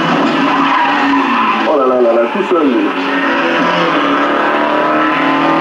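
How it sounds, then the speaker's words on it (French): Stock car race cars skidding and revving during a race, with tires squealing and engines rising and falling, fairly close and loud, while someone talks excitedly over them. "Ils se sont fait une course de stock car rien que pour eux."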